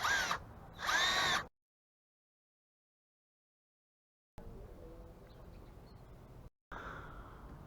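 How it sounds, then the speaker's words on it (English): Power drill cutting a countersink hole in a fiberglass cross-country ski for a binding screw, two short whirring bursts near and loud, followed by silence and quieter low handling noise. "There's a countersunk to make a big hole."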